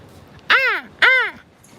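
A crow caws twice, loud and close, two harsh evenly spaced calls with a short gap between them.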